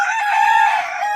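Village chickens inside a coop give a loud, sustained crowing cry that carries strongly through the whole brief moment, with no voices present.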